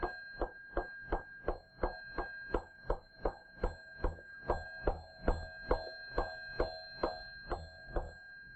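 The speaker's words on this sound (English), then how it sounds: "The electromagnet pulls the metal strip down and makes it strike the bell." An electric bell rings in a steady, rapid series of metallic dings as an electromagnet pulls a metal strip down to strike it, each hit clear and ringing, about two strikes per second, close and alone.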